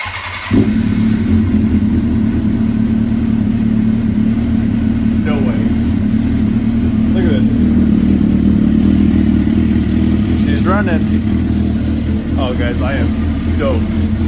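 A Suzuki GSX-R 600 motorcycle, freshly fuelled after sitting, fires up and runs rough, its loud uneven engine drone continuing close by while people talk over it now and then.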